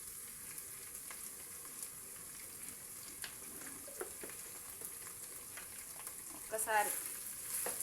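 Onions stirred with turmeric in a pan, giving a quiet steady sizzle with scattered scraping and clinking of the spoon and a louder stir near the end, while a voice speaks briefly.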